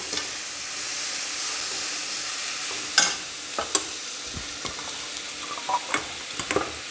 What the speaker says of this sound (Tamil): வெங்காயம் தக்காளி வதங்கட்டும்